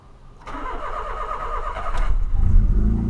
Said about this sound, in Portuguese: Bora dar a primeira partida do dia